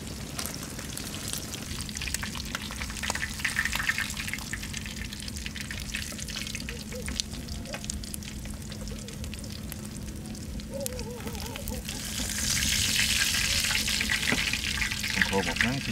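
Sun-dried fish frying in a pan outdoors in a field, a steady loud sizzle that swells toward the end, with people talking over it.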